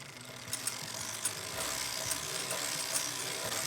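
A circular sock knitting machine being cranked through a row gives off a steady mechanical whir with soft ratcheting clicks at a regular pace, fairly quiet and close.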